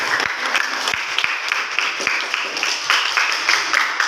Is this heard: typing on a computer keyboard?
no